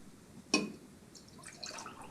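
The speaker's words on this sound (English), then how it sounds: "I'm just going to fill these jars with water, just like you would when storing flowers" Water splashes sharply into a glass jar, then trickles softly as the jar fills, quiet and close.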